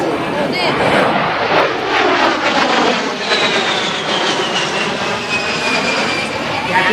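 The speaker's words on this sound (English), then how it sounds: "Captain Fuller coming back around to the center of slow roll along the shoreline to display the hard's precise handling characteristics" Propeller aerobatic plane flying a slow roll along a shoreline at an airshow, a continuous droning engine roar with shifting pitch that stays loud throughout, with a commentator's voice talking over it.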